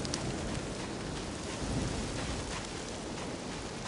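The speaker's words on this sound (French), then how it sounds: "Sous une pluie diluvienne." Torrential rain pours steadily in a video game, with thunder rumbling underneath; the dense, even roar lasts throughout and no one speaks.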